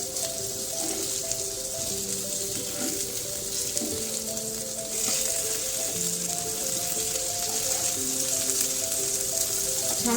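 Surmai fish slices fry in hot oil with a continuous, even hiss and crackle, steady and fairly loud, while faint tones sit underneath.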